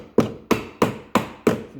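A hammer taps nails on a homemade laser mount with a magnetic base, five sharp, evenly spaced strikes about a third of a second apart, close and clear with no talking.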